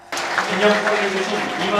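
An indoor crowd breaks into sustained applause at an HWPL peace declaration commemoration, a dense wash of clapping that starts suddenly and carries on evenly throughout.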